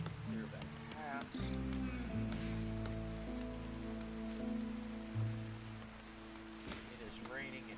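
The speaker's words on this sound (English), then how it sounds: "It is raining and everybody's getting wet and probably miserable." Steady light rain patters in RimWorld, a soft hiss beneath sustained game music tones, with someone talking over it.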